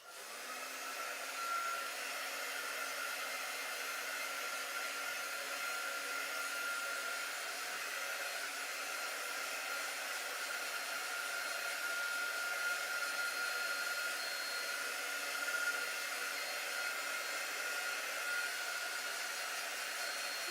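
A hair dryer blows steadily for about twenty seconds, drying a chalk-paste stencil craft on a wooden heart; the even, close whooshing hum runs without pause and no one speaks.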